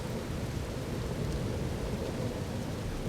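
A violent thunderstorm pours heavy rain in a dense, continuous hiss, with low rumbling thunder rolling underneath throughout.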